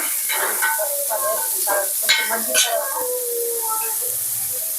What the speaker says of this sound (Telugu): ఆనియన్స్ అన్ని బాగా ఫ్రై అయిపోయాయి కదా, ఇప్పుడు వచ్చి టమాటోలు వేసుకోవాలి.